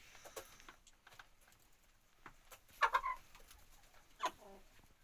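Hens cluck softly in a coop or farmyard, with a few short bursts of clucking standing out against faint background rustling and sounds.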